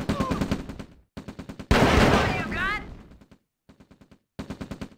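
Riflemen fire their guns in the strategy game Red Alert, producing rapid bursts of rattling gunshots separated by short pauses, with a louder noisy blast and falling whistling tones in the middle.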